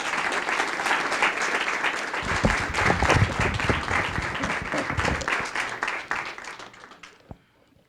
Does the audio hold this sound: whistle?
no